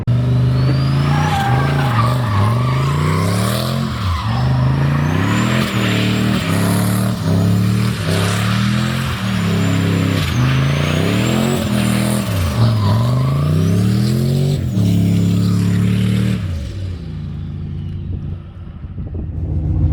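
Turbocharged LS-swapped GMC Envoy doing donuts on a sunny day, recorded close from under the hood: loud engine revving in repeated rising and falling surges, tires squealing through each spin, then the engine cuts away near the end.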